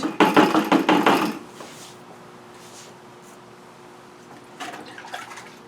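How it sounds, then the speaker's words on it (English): Ceramic glaze being stirred in a bucket, a brief burst of wet sloshing and scraping at the start, then quiet, then a softer splashing swirl near the end. "I'm going to make sure that I stir this up"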